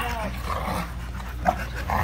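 Dogs roughhousing at a puppy social, with close, rumbling growls and a few yips amid muffled scuffling and brief background voices.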